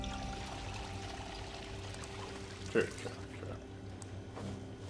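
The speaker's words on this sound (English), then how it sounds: "There's running water in both rooms." Water runs steadily inside a zombie-survival game base, making a low continuous pouring and trickling sound under a brief spoken word.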